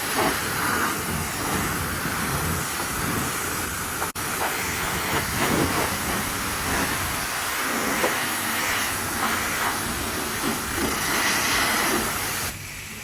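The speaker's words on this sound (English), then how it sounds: "There we go, now the soap's coming." An automatic car wash sprays soap over a Honda Prelude with an H22A engine, making a loud, steady rushing hiss that holds for about twelve seconds with no talking.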